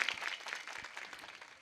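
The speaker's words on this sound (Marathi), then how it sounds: "हरिभक्त परायण गान गंधर्व कैलास महाराज पवार यांच्यासाठी सुद्धा टाळी झाली पाहिजे।" An audience claps at a Marathi kirtan gathering, a dense crackle of many hands that is fairly faint and steady throughout, with no talking over it.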